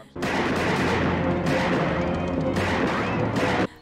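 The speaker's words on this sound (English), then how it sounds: "Don't shoot it, Susan!" Video game gunfire comes as a dense, loud, continuous roar of shots and blasts, with two brief breaks before it cuts off abruptly.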